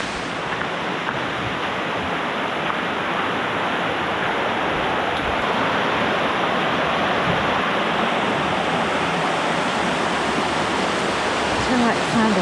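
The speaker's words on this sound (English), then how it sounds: "Kind of rushing water." The Ross Creek waterfall roars in a loud, unbroken rush of water, heard close up as a constant broadband hiss with no pauses, while a voice speaks briefly under it.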